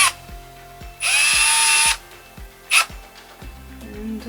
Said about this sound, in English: I'm gonna have to drill a hole after all.